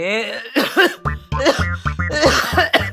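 A person coughs repeatedly in harsh, rapid bursts, close and loud, with some throat clearing between coughs.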